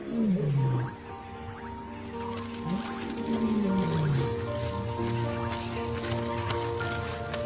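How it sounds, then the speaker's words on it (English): Two male lion brothers in the African wild call to each other with deep, moaning roars, one close and loud at the start, followed by further drawn-out grunting roars over a dense backdrop of insects and wildlife. "Daily calls connect him and his brother."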